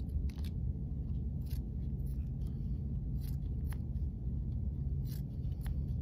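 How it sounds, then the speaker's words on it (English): Paper gets cut into small feather slashes with a pair of dull scissors during a craft project. Scattered, quiet snips and scrapes recur every second or so over a constant low hum. "I'm gonna cut some little slashes like this to make the little pieces of feather."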